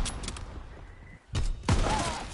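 Two sharp, loud shots crack out in an online shooter, the second followed by a short ringing tail, with a few fainter clicks and impacts before them.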